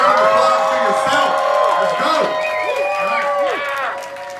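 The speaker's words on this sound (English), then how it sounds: "Come on, really give a round of applause to yourself." A trade-event crowd applauds itself, with loud cheering, whoops and excited shouting layered over the clapping, sustained for several seconds before easing slightly at the end.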